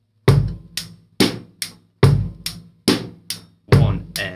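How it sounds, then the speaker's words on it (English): A basic rock drum beat played alone: steady eighth-note hi-hat over bass drum and a crisp snare backbeat, close and loud, repeating in an even pulse with no talking. "basic rock, 8th notes on the hi-hat, 2 and 4 on the snare"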